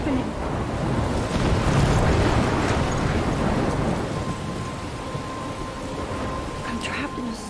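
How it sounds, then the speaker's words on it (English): A storm in Life is Strange: dense, steady rain roars with deep thunder rumbling through it, loud and continuous, while wind and crackling strikes rise now and then. "I'm trapped in a storm?"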